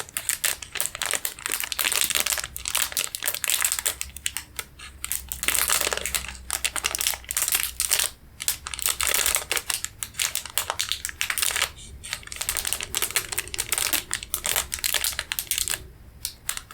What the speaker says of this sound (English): some crinkling.